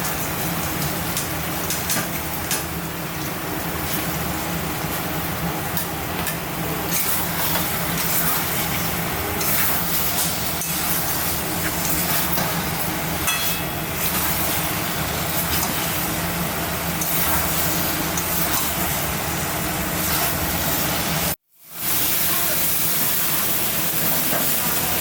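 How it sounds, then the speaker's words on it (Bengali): Fried paneer and potato stir-fried in masala for a Bengali paneer masala dish give a continuous loud sizzling hiss. It holds steady for over twenty seconds, broken by one brief gap near the end. "এর মধ্যে এই ভেজে রাখা পনির আর আলুটা দিয়েও ভালো করে কষানো।"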